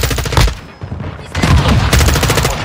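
Automatic weapon fire in the video game Call of Duty: Warzone 2 rattles in rapid bursts, a loud close volley, a brief pause, then more sustained fast shots, with no voices heard.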